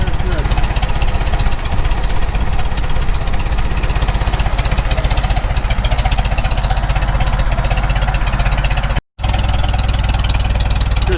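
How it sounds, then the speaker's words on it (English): A rebuilt Farmall Super M tractor engine runs at low idle with a loud, close, steady rhythmic chug that barely changes. A brief dropout comes near the end, and voices may be mixed in under the engine. "Just doing some carburetor adjustments now. Working on the low idle."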